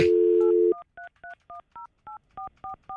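A telephone dial tone plays and then cuts off, followed by a quick run of about ten loud, evenly spaced touch-tone beeps as a number is keyed in.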